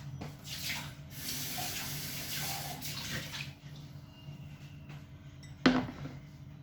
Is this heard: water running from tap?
yes